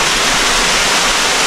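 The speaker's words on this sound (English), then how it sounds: "Here's the infamous waterfall that everybody speaks of." Waterfall on the Windrock off-road trail pours steadily, a dense, even rush of falling water that fills the whole moment without pause or voices.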